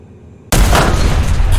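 Tank cannon firing in War Thunder, an Object 292 shooting 700 mm APFSDS: one loud, close, sudden boom after a brief quiet, followed by a sustained heavy rumble.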